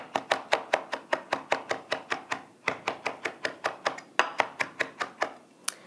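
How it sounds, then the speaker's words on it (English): A knife minces fresh parsley on a cutting board in quick, steady chopping strokes, sharp close taps roughly five per second in two long runs with a brief pause between, no voices. "you just continue mincing until the desired texture is achieved"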